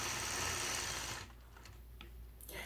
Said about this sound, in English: stitch in the ditch along the bottom side of my star